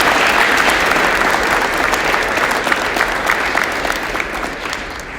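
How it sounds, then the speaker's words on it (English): A school crowd at a signing day for student athletes gives loud, dense applause that continues steadily throughout and eases slightly toward the end. "please give a hand clap for these"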